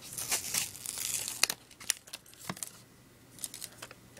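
Clear plastic wrap on a 2010 Apple TV crinkles and rustles as it is handled during unboxing, with close, irregular crackling bursts and a few sharper snaps, no talking.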